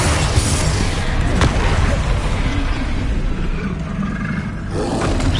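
A troll in a Harry Potter video game lets out a deep, loud roar, a dense rumbling growl that fills the clip steadily and close by.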